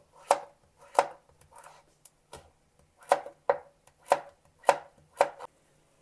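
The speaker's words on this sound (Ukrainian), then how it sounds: "Нарізаю моркву ось такими смужками," A knife chops carrots into thin strips on a cutting board in quick, crisp strokes, about a dozen cuts in uneven bursts, close and clear.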